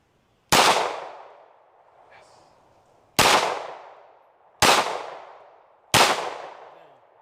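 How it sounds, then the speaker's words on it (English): A gun fired freely outdoors lets off four sharp, loud shots spaced a second or more apart, each with a long decaying echo, with a faint brief sound in the first gap. "I'm just free firing at this point"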